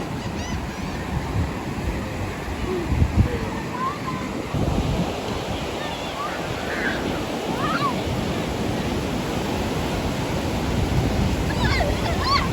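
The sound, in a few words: beach waves and wind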